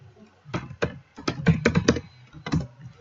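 Typing code on a computer keyboard, several short bursts of close, crisp key clicks in an uneven rhythm, separated by brief pauses.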